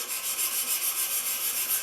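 The iron of a Stanley No. 19 block plane is rubbed back and forth on sandpaper, a rhythmic, close scratching with around a dozen even strokes.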